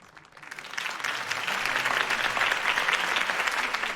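A crowd applauds steadily after a campaign speech in Batman: The Telltale Series, the clapping swelling within the first second and holding as a dense, sustained ovation to the end.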